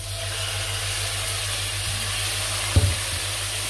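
Boneless chicken cubes sizzle steadily in a hot pan, with a soft thud partway through as pieces land and the frying hiss continuing evenly.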